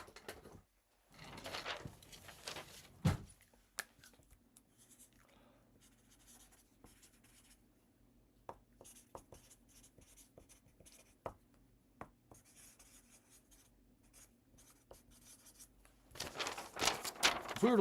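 A marker pen scribbles on thin scrap paper as a map is drawn, quiet intermittent scratchy strokes with pauses, close and without speech.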